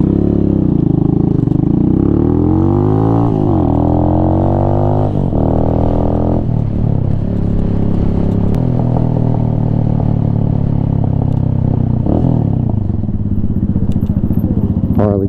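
Venom Ghost Chopper 250 motorcycle engine running steadily up close, with rising revs and gear changes, a loud continuous throaty drone throughout.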